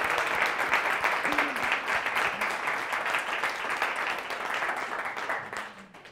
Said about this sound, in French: j'ai envie qu'on leur donne une bonne main d'applaudissement